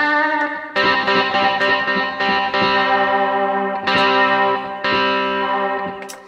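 Guitar voice on a Yamaha Genos keyboard played with chorus effect, a run of loud, shimmering sustained chords struck again and again with rich, swirling harmonics and no talking.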